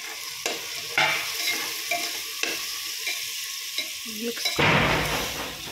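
Turmeric and spices frying in a pan of oil for a masala rice dish, stirred with several distinct scrapes of a spoon against the pan over a steady sizzle, with a louder burst of frying near the end.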